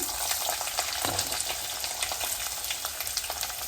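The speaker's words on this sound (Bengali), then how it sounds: "এরপরে দেবো পেঁয়াজ, কুচনো পেঁয়াজ দিয়ে দিচ্ছি" Chopped onion goes into a hot pan with grated garlic and sizzles loudly and continuously, with the crackling of frying oil close by and occasional stirring scrapes.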